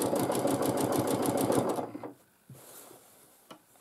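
Sewing machine stitching free-motion quilting, a fast steady run of needle strokes that stops after about two seconds, leaving faint clicks and handling noise.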